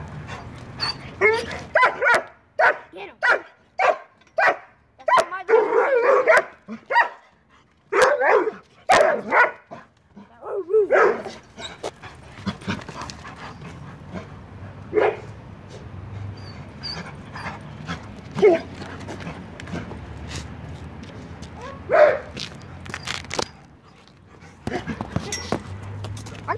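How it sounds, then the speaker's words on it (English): A dog barks repeatedly nearby in a series of loud sharp barks, clustered in the first half and then thinning to occasional yips and whimpers, with faint talk in the background. "That's my dog."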